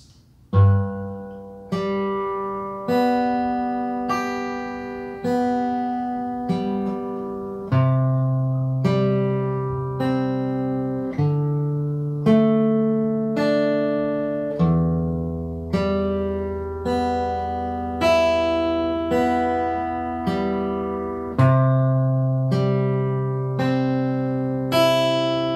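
A single guitar picks out a melodic line, clear plucked notes falling in a steady, repeating rhythm with each one ringing and decaying, moving through D and neighbouring chords, played close and alone.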